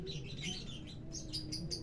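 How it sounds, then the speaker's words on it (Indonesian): Young spotted doves and zebra doves, kept as caged pet birds, give a steady stream of soft, high chirps and peeps close by, overlapping continuously with no talking. "Ini 2 ekor burung tekukur guys."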